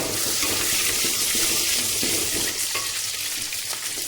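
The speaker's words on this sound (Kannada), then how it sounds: "ಈಗ ಬೆಳ್ಳುಳ್ಳಿ ಹಾಕ್ತೀನಿ" Garlic fries in hot oil with coriander, curry leaves, mustard seeds and cumin for drumstick sambar, producing a loud, dense, continuous sizzle and crackle, close up with no speech.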